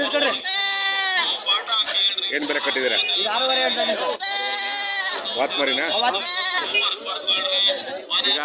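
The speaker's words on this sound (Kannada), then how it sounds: "ಮೇಕೆ ಮರಿ" A goat kid bleats, repeated and wavering, at a weekly livestock market in Tumakuru, mixed with people talking throughout; the calls sound close and loud.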